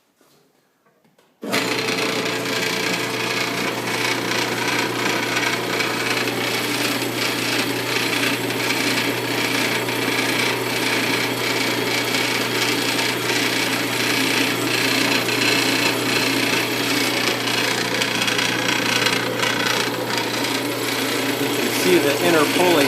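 After a moment of near silence, a Craftsman bandsaw fitted with a slow-speed converter starts up and runs at low speed, holding a loud, steady motor hum and whirring drive for about twenty seconds.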